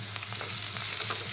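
Spices being stirred into onions frying in oil for a fish curry, a steady close sizzle with soft spoon scrapes, with no talking.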